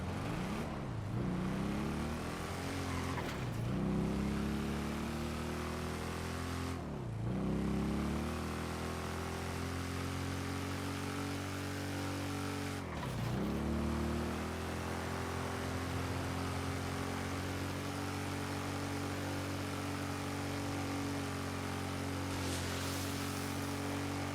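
A motorbike being test ridden, its engine droning steadily and loudly, with several distinct gear shifts where the pitch drops and climbs again.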